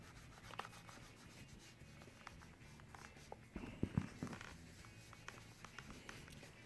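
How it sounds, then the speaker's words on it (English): Wax is rubbed by hand onto shell cordovan leather shoes, soft close scuffing and brushing strokes with faint taps, quiet and irregular. "you really don't need to see me put on the wax"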